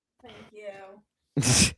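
A woman lets out one sudden, loud sneeze right after someone says a couple of short words.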